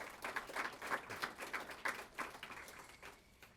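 Audience applause for sponsor Bank of North Georgia at a speaker event, a modest crowd clapping at moderate distance with uneven, patchy bursts over a few seconds, no talking over it.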